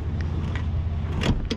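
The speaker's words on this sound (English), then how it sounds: "The seat moves." Power seat motor in a Lotus whirring quietly inside the car, with small clicks and a couple of brief mechanical squeaks near the end.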